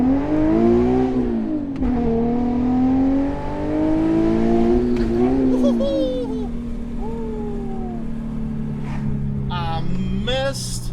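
A car engine revs and its RPMs fall back quickly after a new clutch install, the tone sweeping up and dropping in several cycles with a gearshift blip, heard from inside the cabin with people talking over it.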